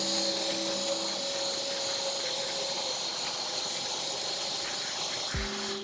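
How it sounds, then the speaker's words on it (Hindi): American Micronic 21L 1600W wet and dry vacuum cleaner with a brush head working on a sofa, a loud steady whooshing motor roar throughout with a brief shift in pitch near the end. "तो अब हम ये ट्राई करेंगे इसके इस्तेमाल से हमारे फर्नीचर जैसे कि सोफा की हम वैक्यूम क्लीनर से क्लीनिंग कर सकते हैं या नहीं।"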